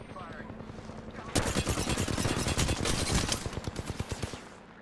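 Rapid automatic gunfire from Apex Legends erupts after a quiet start and keeps up as dense, loud bursts for several seconds, with a player's voice faintly underneath.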